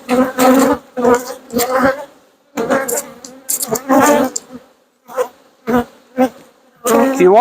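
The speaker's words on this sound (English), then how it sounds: "If you're wondering why there's so many bees around our head here" A swarm of honey bees buzzes around a hive box, loud and very close, with individual bees zipping past the microphone in repeated rising and fading bursts.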